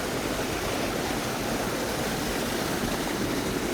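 A mountain river rushes past in a continuous, even roar of flowing water, close and steady with no other sounds.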